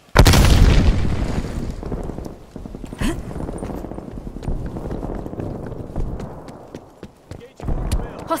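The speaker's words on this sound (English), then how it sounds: "Throwing grenade!" A grenade is thrown and explodes during a deathmatch in Call of Duty: Black Ops Cold War, opening with a loud blast followed by rumbling, clattering battle noise and a second heavy impact near the end, with voices in the mix.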